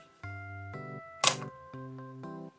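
A Barnack Leica DIII in shiny chrome, freshly overhauled, fires its shutter at 1/500 second, giving a single crisp click over steady, sustained musical tones.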